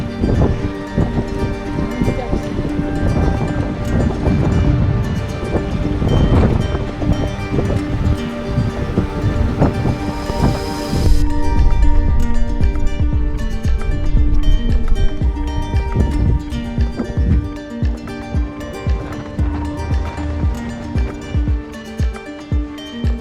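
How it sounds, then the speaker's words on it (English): Strong wind buffets an exposed mountain trail near Fitz Roy in Argentina. It roars loudly into the microphone in heavy, continuous gusts, easing slightly into rough, pulsing rushes later on. "You get the sense of how quickly the weather can change, how intense the wind is, and just how very exposed you are up here."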